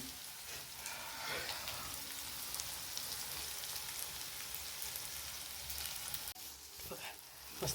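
Onion, tomato and peas fry in hot oil, a steady close sizzle that runs without pause, with a brief clatter near the end.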